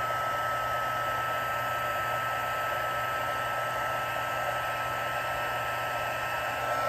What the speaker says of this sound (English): So I've got my Stampin' Up! Heat tool.